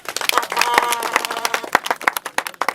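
A crowd applauds football players after a match: brisk, uneven clapping from many hands, close and fairly loud, with sharp individual claps standing out in a continuous patter.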